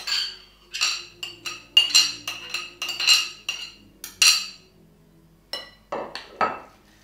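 A bowl of dough is mixed with autumn chanterelles, with bright clinks of a utensil against the bowl coming in quick irregular clusters, pausing briefly, then returning.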